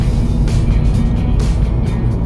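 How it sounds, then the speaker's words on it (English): Loud, steady tyre roar and road noise inside a 2015 Seat Leon FR 2.0 TDI remapped to 201 bhp, a constant dense low rumble with faint swelling hiss as the front-wheel-drive hatchback rolls along. "you can just hear the road noise, the tyre roar is actually quite loud"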